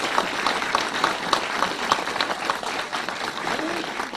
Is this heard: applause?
yes